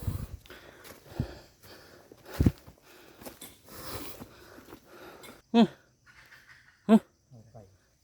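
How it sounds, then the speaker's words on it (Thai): Two sharp, loud barks from a dog nearby at wild junglefowl, spaced about a second apart, followed by a softer yelp, over a background of rustling and low voices. "มันเห่าไก่ป่านะครับ"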